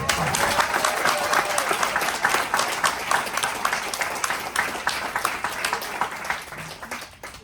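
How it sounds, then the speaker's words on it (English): A room of marketers on a cruise-ship event breaks into a round of applause, steady clapping with some crowd noise, fading slightly toward the end. "give a round of applause"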